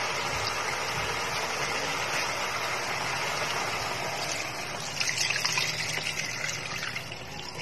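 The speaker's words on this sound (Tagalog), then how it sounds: "Lalagyan na natin ng tubig." Water pours steadily into a cooking pot on a stove for a Filipino soup, a continuous close splashing rush that swells slightly toward the end.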